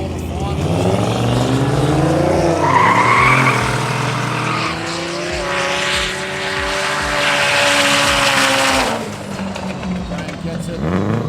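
Roll racing cars launch side by side, a Lamborghini V10 against a Holden Gemini, their engines roaring loud and close, then screaming up through the revs with pitch sweeps under a commentator's voice before easing off.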